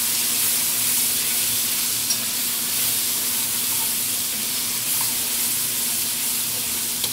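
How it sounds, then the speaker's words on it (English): Chopped vegetables simmer and sizzle in a gumbo pot of chicken and andouille sausage while being stirred, a steady loud bubbling hiss with occasional faint scrapes of the spoon. "We'll stir this till it kind of quits simmering."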